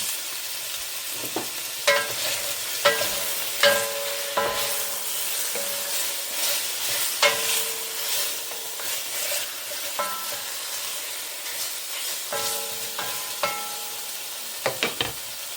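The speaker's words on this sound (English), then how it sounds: "Let that brown nicely, and then we're going to flip it over and brown the other side of it." Meat browns in a hot pan for Irish stew, a constant crackling sizzle broken by repeated scraping and clinking as it is stirred and moved, close and fairly loud with no voices.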